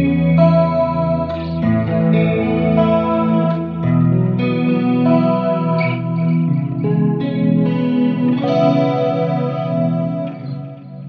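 An electric guitar played through a Fractal Audio Axe FX III with a chorus effect rings out in shimmering, sustained chords and notes. It plays alone, up close and steady, with no talking.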